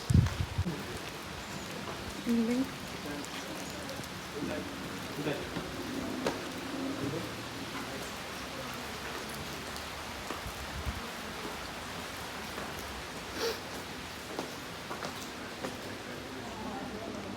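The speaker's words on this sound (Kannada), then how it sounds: "ಅಲ್ಲೇ ಮಳೆ ಬರಾಕತ್ತೆ ಜೋರು" Heavy rain pours down at a resort in Dandeli, making a steady broadband hiss throughout, with a voice talking briefly over it.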